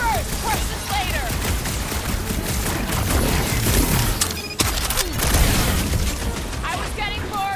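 Gunfire in the Guardians of the Galaxy video game: sustained bursts of shooting and blasts with crashes and a sharp impact, mixed under excited character voices shouting throughout.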